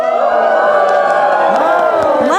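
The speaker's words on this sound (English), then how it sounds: "a cheer went up as a grand hotel from a bygone era got a little closer to opening its doors" A crowd cheers and whoops at the reopening of a grand historic hotel, loud, excited voices rising and falling together.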